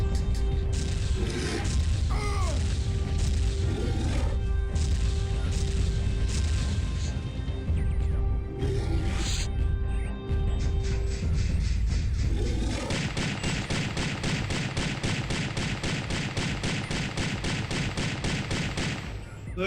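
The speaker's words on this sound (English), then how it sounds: "I am literally on a Triceratops machine gun and dual mortar launchers." Ninja Gaiden Sigma gameplay with a Triceratops-mounted machine gun and dual mortar launchers: dense, continuous gunfire and booming blasts under steady game noise, becoming a rapid unbroken rattle of automatic fire in the second half.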